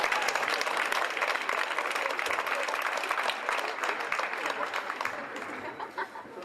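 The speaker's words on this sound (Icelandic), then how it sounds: "bið ykkur að gefa þeim gott klapp" A crowd at an Icelandic artistic gymnastics championship gives a round of applause, a thick, even clatter of many clapping hands that fills the hall and holds steady before easing slightly at the end.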